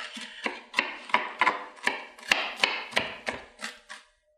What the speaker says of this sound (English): first let's start with chopping the onion